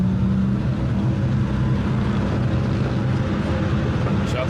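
A twin-turbo GTO drag car waits at the start line with its engine spooling, a loud, steady, unbroken droning rumble that holds level throughout.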